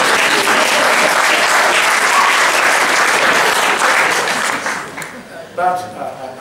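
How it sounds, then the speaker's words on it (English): Sustained applause from an audience at a talk on safe, legal routes for refugees, dense and steady for about five seconds before thinning into scattered claps and a few voices. "But only younger people clap then."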